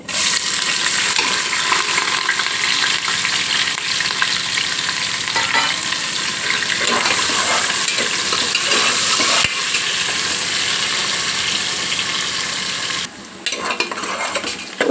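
Two sliced onions fry to golden brown in spiced oil for a Telangana mutton head curry, with a loud continuous sizzle and busy stirring scrapes. The sizzle dips briefly near the end.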